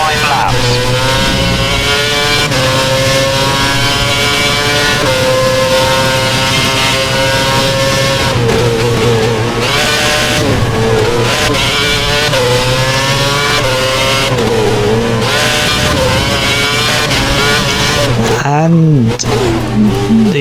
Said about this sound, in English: the tyres really lost grip there, and we spin at the penultimate corner